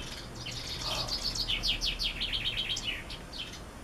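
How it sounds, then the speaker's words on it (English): Outdoor birds chirping in quick, high trilled phrases, a run of repeated tweets close by over a low steady background hum, with no talking. "Let's get a little bit of listening to the birds."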